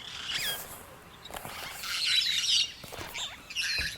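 Parakeets and cockatoos chirp and tweet in bright, scattered bursts, used as a sound effect in a children's story, with no talking.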